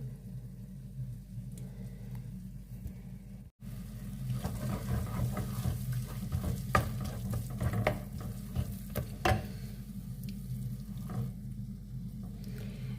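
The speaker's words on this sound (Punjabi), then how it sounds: "ਪਿਆਜ਼ ਦੇਖੋ ਆਪਣੇ ਭੁੱਜ ਗਏ ਆ ਪਾਨ ਬਿਲਕੁਲ ਨਿਕਲ ਗਿਆ ਆਪਾਂ ਇਹਨਾਂ ਨੂੰ ਇੰਨਾ ਕੀ ਭੁੰਨਣਾ ਆ ਇਹਨਾਂ ਨੂੰ ਮੀਡੀਅਮ ਫਲੇਮ ਤੇ ਹੀ ਭੁੰਨਣਾ ਆ" Onions frying in a pan on a medium flame for a mint chutney, a steady close sizzle with crackling bursts and occasional utensil scrapes, heard without talk and with one brief dropout.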